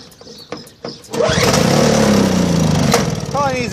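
A John Deere TRS 21 snow blower cold-starts: a few pulls and sputters, then the engine catches at about one second and roars loud and steady close by, its pitch wavering slightly as it settles.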